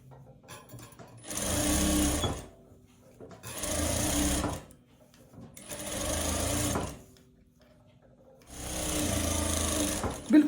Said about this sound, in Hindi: बिल्कुल किनारे पे सिलाई लगा के हमने इसको तैयार कर दिया